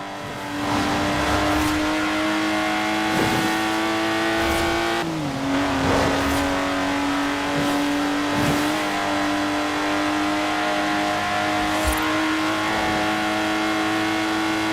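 A Lotus Exige sports car in Forza Horizon 4 drives with a steady engine drone close up, holding a sustained pitch, dipping briefly around mid-run as it shifts, then settling back to a constant hum with light tire noise.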